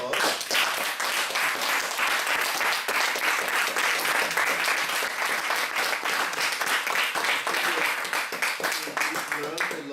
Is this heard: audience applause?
yes